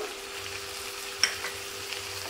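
Spices and tomato paste fry in a pan for a Bengali-style egg curry, giving a steady soft sizzle throughout with one brief sharp tick near the middle.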